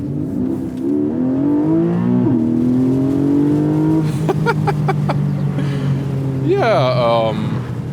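A Porsche 718 with a 4-litre flat-six engine accelerates hard in Sport Plus mode, its rising roar climbing through the gears with sharp shift breaks and close, loud exhaust note, under a passing bit of voice.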